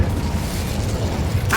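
An Incendio fire spell in Hogwarts Legacy, a dense roaring whoosh of flame that stays loud and full throughout, ending in a brief bright crackling burst.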